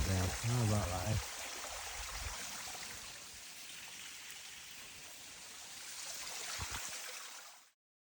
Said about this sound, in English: this is the descent down Mount Garfield, and you can see a rocky waterfall we've got to walk down